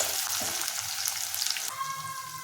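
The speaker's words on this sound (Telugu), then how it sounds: "కొంచెం కరివేపాకు వేస్తున్నానండి నేను." Curry leaves hit hot oil with a bright, steady crackling sizzle, close and continuous, with a brief sharper spurt partway through and no voices.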